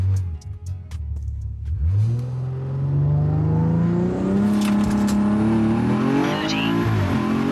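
BMW 340i with the stock B58 engine and transmission launching hard for a 0 to 60 run, the engine note climbing steadily and loudly through the revs, close and sustained with no talk.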